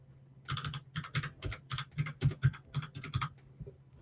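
Fingers tap out a phone number on a computer keyboard in a quick, uneven run of crisp, close keystrokes over about three seconds, with no speech.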